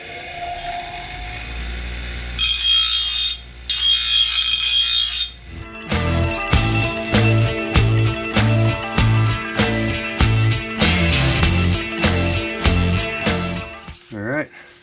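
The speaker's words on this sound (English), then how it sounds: "Play with it on the grinder." A grinder works on a DIY stainless steel prospecting pick, a loud sustained whine broken into a series of rhythmic bursts as the metal is pressed and lifted repeatedly, with no talk.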